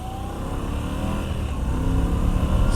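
Moto Guzzi V85 TT adventure motorcycle engine droning steadily while riding, with wind noise and a gradual rise in loudness.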